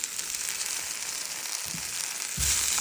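Steady, loud sizzling of broccoli stir-frying in a hot pan, with a couple of brief thuds of stirring near the end.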